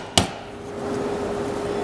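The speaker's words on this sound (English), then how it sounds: "What I gotta do now is chip out everything that's not tail." A single sharp chisel strike chips wood waste from between hand-cut dovetails, a crisp close knock followed by quiet room tone.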